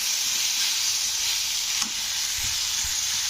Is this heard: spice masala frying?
yes